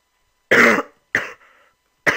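Three separate coughs, close and fairly loud, with short pauses between them and silence before the first.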